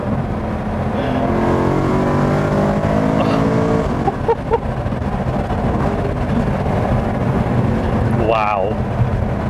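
A de-catted BMW E92 M3 roaring loudly on downshifts, with harsh revving sweeps and crackles up close and a brief whine near the end, as people talk over it.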